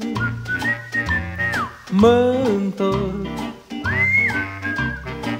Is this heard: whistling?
yes